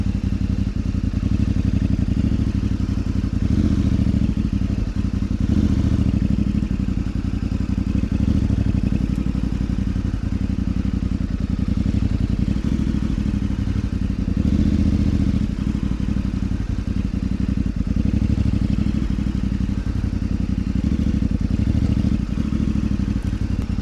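An adventure motorcycle idles and creeps along during a slow-speed riding exercise, with a steady low engine drone and faint clatter throughout and no big revs.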